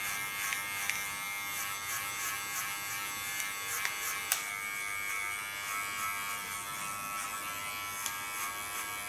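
Electric hair clippers with the blade in comb position buzz steadily and close up while cutting hair during a nape-shave haircut. The hum stays constant, broken by a few small sharp clicks.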